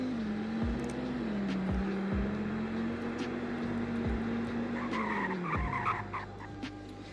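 A Dodge Viper ACR-E braking hard from 100 mph to a stop: a sustained tire squeal holds steady for about five seconds, then drops away as the car halts, with a low engine rumble underneath.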